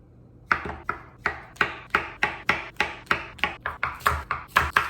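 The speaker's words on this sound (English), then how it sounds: "let's go ahead and let's chop up our ingredients" A knife chops mushrooms and other quiche ingredients on a cutting board, with about sixteen crisp, close thwacks in a steady, quickening rhythm and no talking.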